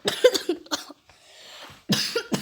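A person coughs several times in quick bursts, close and loud, with a brief quieter breathy pause between coughs.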